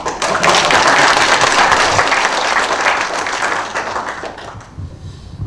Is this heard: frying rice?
no